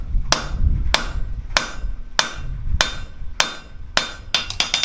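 A blacksmith's hammer strikes hot steel while forging a leaf-shaped drawer pull. About seven loud, evenly spaced ringing blows land close by, followed by a quick flurry of lighter taps.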